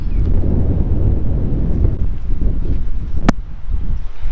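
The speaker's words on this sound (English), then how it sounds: "hold on, let me get out of the wind" Strong wind buffets a microphone outdoors, a loud continuous low rumble that holds steady throughout with no speech.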